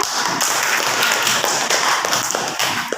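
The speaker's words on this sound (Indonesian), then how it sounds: "Kami tepuk tangan buat Kayla" A classroom of students claps hands together in a brief, dense burst of close, brisk clapping lasting about three seconds.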